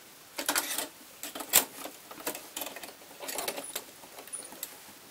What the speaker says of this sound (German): die setze ich hier an und schraube das dann mit meiner Schraube fest